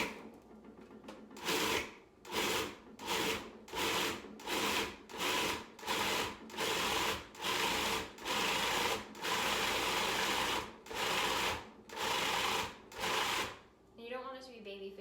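A food processor pulses salmon into a coarse mix for salmon cakes, about a dozen short whirring bursts in steady rhythm with brief gaps between them, close and fairly loud, followed by a moment of talk at the end.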